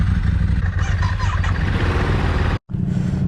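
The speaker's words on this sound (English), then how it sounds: "the old neighbours will know you're here once everyone's warming up their bikes." Several Ducati motorcycles, including a DesertX, a Multistrada V4 S and a 996, warm up together at close range. Their engines make a dense, loud rumble that cuts out for a brief moment near the end.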